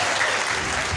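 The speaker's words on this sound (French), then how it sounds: "Sous vos applaudissements, s'il vous plaît, faites du bruit pour Ismaël Bourema" An audience at an award ceremony for winners of a dictation and mathematics contest applauds steadily, a dense, even wash of clapping with no voices over it.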